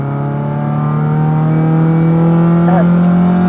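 An Opel Corsa GSI engine revs, its loud steady drone climbing gradually in pitch over a few seconds, close up, with a brief voice near the end.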